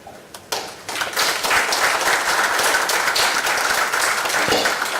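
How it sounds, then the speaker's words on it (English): A conference audience applauds after a panel discussion. The clapping starts with a few scattered claps, then swells into a loud, sustained round from the whole room and holds steady to the end. "I think that panel discussion deserves a bigger round of applause"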